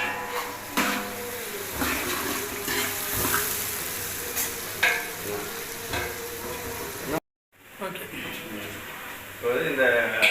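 A large pot of onions sautéing for a three-kilo biryani, with steady frying sizzle and stirring scrapes, briefly cut to silence partway through, while a person talks over it.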